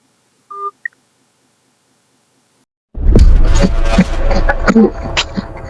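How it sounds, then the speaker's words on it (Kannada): A few short telephone dialing tones beep in near silence, followed by a faint run of soft ticks, then a sudden burst of loud, busy noise. "ಫೋನ್ ಹಾಕವನ್ಗೆ."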